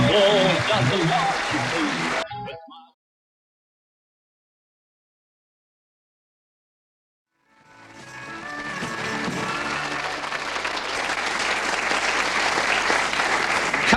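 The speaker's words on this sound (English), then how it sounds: "That applause doesn't last." Loud audience applause at a country music tribute, clapping that cuts off into a few seconds of silence before swelling back up and continuing strongly to the end.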